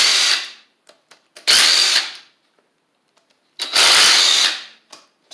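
A Craftsman cordless power tool running on a Vanon 6Ah 20V battery loosens bolts on an engine in two loud, whirring bursts with brief clicks and pauses between them.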